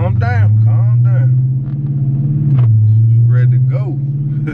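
A Dodge Charger engine idles close by with a deep, steady rumble, a brief dip in pitch midway, while someone talks over it.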